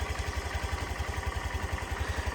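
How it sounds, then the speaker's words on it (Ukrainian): A Honda Lead JF-45 125cc fuel-injected scooter engine idles quietly, giving a soft, even low putter with a regular rapid pulse and nothing else heard over it. "Працює також тихенько, дуже тихенька робота двигуна"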